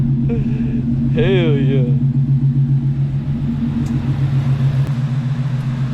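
A Coyote-swapped SN95 Mustang on its first drive rumbles steadily from inside the car, with a short excited shout and brief talk over the deep, even engine drone.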